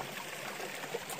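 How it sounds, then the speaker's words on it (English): A stream of water on the Appalachian Trail near Stratton, Maine, gives a soft, steady, faint trickling and rushing wash without any voices. "going across a water source"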